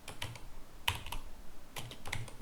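Keys on a computer keyboard tapped out a terminal command on a Debian 13 GNOME desktop, in two short close bursts of clicks separated by a brief pause.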